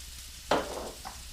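Oil sizzles in a pan, with a brief sharp burst as food hits it, then a softer crackle that continues, heard up close.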